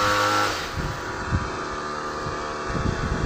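A small petrol-engine water pump, used for washing a cattle shed floor, runs nearby with a steady droning motor hum and a few uneven surges, continuous throughout with no speech.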